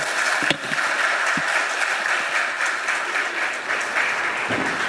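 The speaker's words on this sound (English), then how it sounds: "Ladies and gentlemen, shall we applaud his effort again?" Audience applause at the official launch event of Direct Savings and Loans Ltd., a steady, dense clapping that fills the room for several seconds with a few sharper claps standing out near the start.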